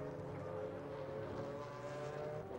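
A 2003 American Le Mans Series race car pulls out of the pits at Mosport, its engine droning steadily with a rich harmonic whine, heard at a moderate distance through broadcast ambience.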